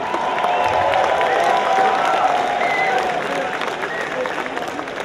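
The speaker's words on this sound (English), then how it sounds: "So give a big round of applause to yourselves." Audience applause and cheering at a bodybuilding show, the NPC Emerald Cup, a dense steady wash of clapping with crowd noise and whoops filling the hall throughout, loud and sustained.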